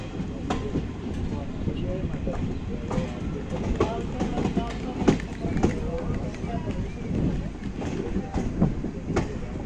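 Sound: train departing Kathua towards Jammu

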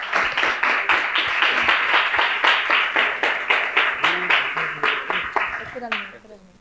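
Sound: audience applause for Nicolás

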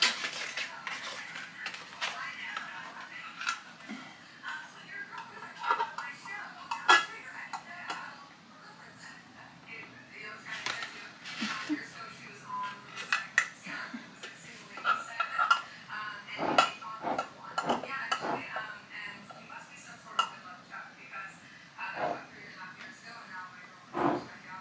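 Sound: handling metal canning jar lids from box

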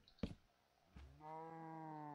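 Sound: cow mooing in Minecraft video game

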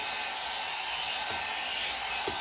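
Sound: hair dryer blow drying hair

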